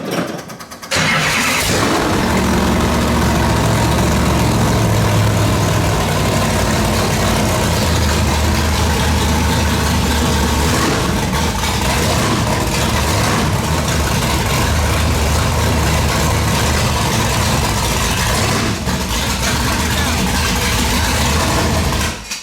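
A 1965 Genie Mk10 Can-Am race car engine fires up after a brief quiet moment and then runs loud and close, a rough steady idle with small revs throughout.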